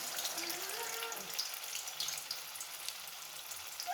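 Water pours steadily into a pot of potatoes, a continuous rushing, splashing stream that stays at an even level throughout.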